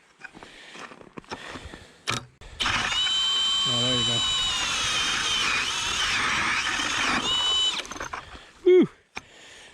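A power ice auger whines loudly and steadily for about five seconds as it bores through ice, with brief mechanical clicks before and a short burst after.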